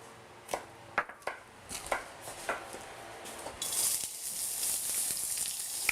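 A knife cuts julienne strips of zucchini on a cutting board for japchae, a series of sharp, irregular chopping knocks. Sizzling from a frying pan rises partway through and carries on underneath.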